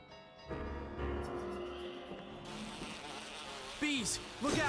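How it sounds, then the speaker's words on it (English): Bees buzzing in the Resident Evil: The Umbrella Chronicles video game, a steady droning swarm hum with a couple of sharper swooping fly-bys near the end. "Bees, look out!"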